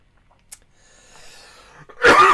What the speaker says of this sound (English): Excuse me, coughing away.